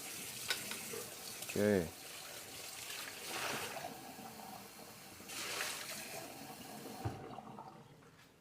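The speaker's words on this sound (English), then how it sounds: "Just gonna wash the brush. Don't worry about the noise. Just washing the brush." A paintbrush swishes and splashes in a water cup, with sloshing bursts and clinks against the container, recorded close; a person speaks briefly over the washing.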